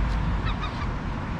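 A bird honks a few times outdoors in downtown Traverse City, Michigan, short goose-like calls half buried in steady, loud street noise.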